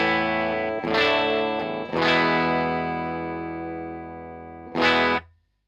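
An electric guitar through a fuzz pedal with its volume knob backed off gives a cleaner, less saturated tone. Three strummed chords ring out and decay slowly, the last cut short, with no voices over them.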